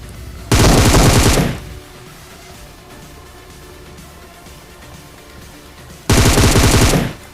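Two loud bursts of rapid automatic gunfire ring out in a battle royale video game, each lasting about a second, separated by several seconds of quieter game ambience.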